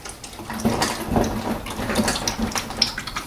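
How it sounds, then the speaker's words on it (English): Engine oil drains from a Volvo XC petrol engine into a pan, a continuous close pouring and splashing of liquid with small drips and gurgles running the whole time. "And that will also drip some oil from there."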